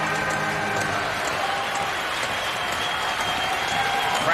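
A baseball crowd at Omaha during a College World Series game between Florida and NC State, cheering and applauding in a loud, sustained roar that fills the stadium, steady throughout.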